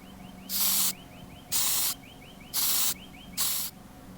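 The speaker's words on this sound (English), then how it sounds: "Now I'll apply the copper paint." Copper paint sprays onto a Matchbox Lesney #28 Jaguar MK10 die-cast model in four even bursts, each about a third of a second long, hissing close and loud with short quiet gaps between them.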